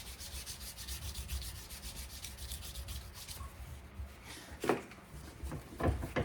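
Sandpaper rubs back and forth over a horseshoe knife blade to remove scratches, producing quiet, rhythmic scratchy strokes close up, ending with a couple of louder knocks.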